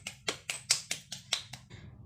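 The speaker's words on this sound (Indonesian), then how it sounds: "kasih tepuk tangan dulu buat teman-teman kalian yang udah mau menjawab pertanyaan Ibu" Students applauding in a classroom, roughly seven distinct bright claps in an even rhythm over about two seconds, close and fairly loud, with no talking.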